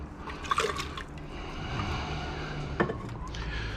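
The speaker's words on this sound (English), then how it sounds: "Give it a good rinse. Try and get all that iron solution off it." Gold recovered from RAM and BGA chips rinsed with water to wash off iron solution, a close trickling, splashing pour running steadily with two brief louder splashes.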